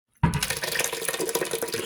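Blended homemade tomato soup is poured back together into one container, a close, steady splashing pour that begins abruptly after a brief silence and runs continuously.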